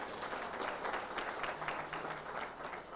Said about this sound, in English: Can we give the minister a round of applause?